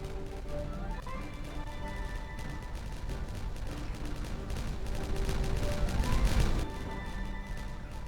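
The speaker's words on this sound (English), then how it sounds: "And let us click the detonate button. And boom." Charges detonate in the beaver colony-building video game Timberborn, producing crackling, rumbling blasts over steady game music that swell to a louder burst of explosions toward the end.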